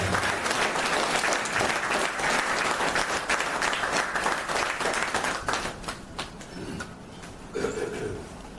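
Public applause and cheering at a celebration honoring journalist and writer Germain Sehoue, a dense, loud wall of clapping from a large crowd that holds steady before thinning slightly toward the end.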